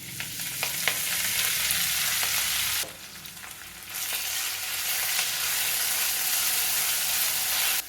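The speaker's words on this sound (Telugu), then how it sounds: "కట్ చేసి పెట్టుకున్న మెంతికూర వేసేస్తున్నాను" Chopped fenugreek leaves fry in hot oil with cumin seeds, giving a loud, steady close sizzle and hiss with occasional stirring clicks. The sizzle dips briefly about a third of the way through, then returns full.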